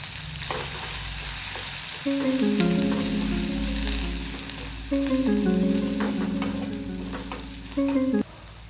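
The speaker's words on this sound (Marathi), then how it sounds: "जिरे मोहरी छान तडतडलं की त्यात टाकलेलं आहे घरी बनवलेलं लसूण खोबरं" Homemade garlic and coconut mix frying in a pan over crackled cumin and mustard seeds for a Maharashtrian eggplant dish, giving a steady close sizzle with stirring scrapes and a backing of musical tones.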